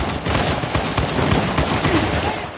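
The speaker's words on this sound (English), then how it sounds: "Open fire!" Dense, loud video game gunfire on a PS4 during a live broadcast, a continuous rattling fusillade of rapid shots with no clear gaps, filling the whole stretch.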